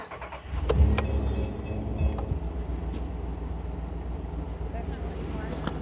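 A Dodge RAM 1500 Classic crew cab truck's 5.7-liter Hemi engine cranks over and settles into a steady, fairly quiet low idle rumble that continues throughout.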